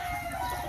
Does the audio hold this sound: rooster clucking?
yes